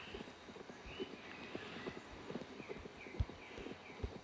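Rhythmic clip-clop of horse hooves in a video game plods steadily at a moderate pace, faint and somewhat distant, with soft ambient sounds behind.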